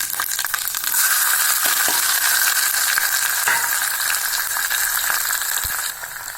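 Garlic and onion frying in hot oil with mustard seeds, fenugreek and cumin for a tamarind curry, a loud close sizzle with bright crackling and a few clinks and scrapes of stirring.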